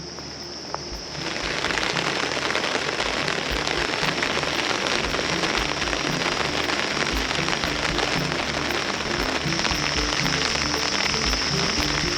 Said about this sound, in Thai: ตอนนี้นะฝนตกหนักมากครับ ทุกคน